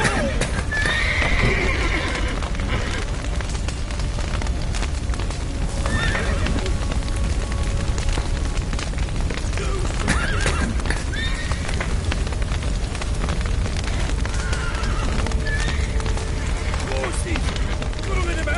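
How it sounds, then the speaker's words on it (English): Horses whinny and hooves clip-clop and run in a PS4 video game, a loud, busy, continuous scene with repeated neighs over galloping, and voices shouting in between. "Horses!"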